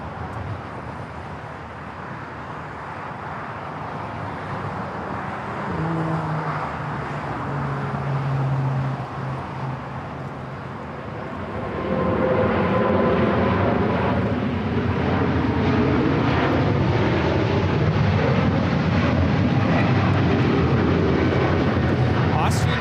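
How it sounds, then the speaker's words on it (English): An Austrian Airlines Boeing 777-200ER rolls down runway 25 Right at LAX on its takeoff roll, a broad, steady jet roar that swells louder partway through and keeps building, with talk over it. "Austrian Airlines Flight 82 taking off to Vienna on the 777-200 ER."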